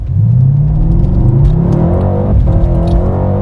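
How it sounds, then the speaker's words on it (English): A Mercedes AMG C63 with active exhaust under hard acceleration, a loud close engine roar rising steadily in pitch through the gears, alone without talk. "That active exhaust"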